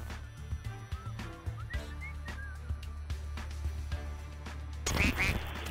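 A cartoonish duck quacks repeatedly in a video game, short nasal calls scattered over a steady low hum and game clatter, ending in a louder burst of noise.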